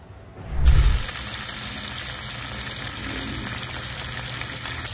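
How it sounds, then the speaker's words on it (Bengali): Small bacha river fish dropping into hot oil in a wok, starting with a loud thump and burst of sizzling that settles into a steady, bright crackling hiss with no talking. "বেশ অনেকগুলো মাছ একবারে কড়াইতে ভাজা যাবে না, 2বারেই ভেজে নিতে হবে, 2বারেই ভাজবো।"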